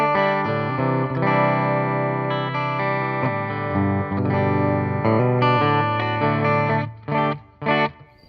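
An EVH Wolfgang Special with a quilted maple top plays through the bridge pickup into a Mesa Boogie Mark 525 on the clean channel with light reverb: sustained ringing chords that cut to short stabs and silences at the end.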